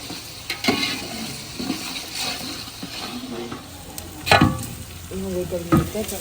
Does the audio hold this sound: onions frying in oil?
yes